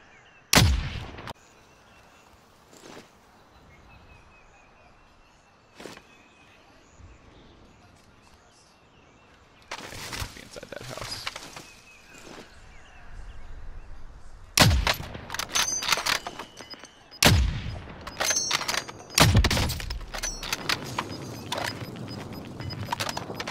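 A video game gun fires in scattered single shots and short bursts, sparse at first and then denser, louder volleys toward the end, with quiet ambience in between.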